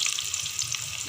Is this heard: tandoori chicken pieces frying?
yes